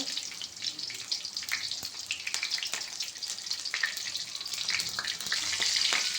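Cumin seeds spluttering in hot oil for soya rice, a busy crackle of sharp pops over a steady sizzle, fairly close and with no voices.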